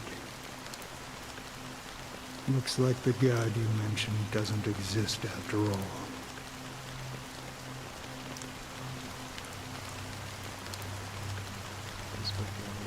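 Steady rain falls throughout a scene in the video game Honkai Star Rail, a constant soft hiss under a person speaking near the start.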